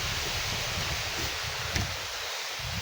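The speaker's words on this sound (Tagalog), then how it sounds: "Bagong lakas ang hangin no." Steady roaring wind with a broad rushing hiss and low buffeting rumble, constant throughout, with no voices.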